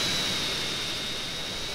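Jet engine of a vertical-takeoff jet in GTA San Andreas, a steady, loud, continuous roar with a thin high whine, heard alone without talk.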